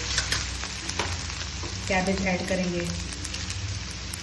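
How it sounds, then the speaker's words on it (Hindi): Julienned carrot and cabbage for Hakka noodles sizzle and crackle on a high flame as they are tossed in the pan, a steady close-up frying hiss with bursts of stirring. "हमें सिर्फ इसको हाई फ्लेम पे भूनना होता है ताकि सब्जियों का नूडल्स के साथ एक अच्छा क्रंच आए"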